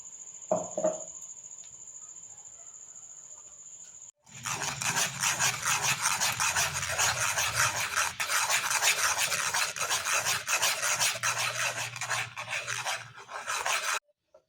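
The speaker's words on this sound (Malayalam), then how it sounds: "നമ്മൾ അടിച്ച് വെച്ചിരിക്കുന്ന പൾപ്പ് ഇതിലേക്ക് ഞാൻ ഒഴിച്ച് ഒന്ന് കുറുക്കിയെടുക്കാം" Mango pulp thickens in a spoonful of ghee in a pan, a steady, loud scraping and rasping of stirring that starts abruptly after a quiet opening and continues without a break for about ten seconds.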